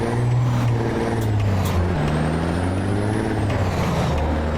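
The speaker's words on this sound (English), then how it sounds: "Getting used to shifting the new truck" A loud, steady truck engine in American Truck Simulator drones close by, its pitch rising and falling with gear shifts, plus a faint high whine.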